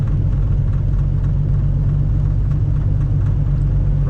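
A snow plow truck's engine rumbles in a steady, deep, continuous drone at close to moderate distance, with no talk over it.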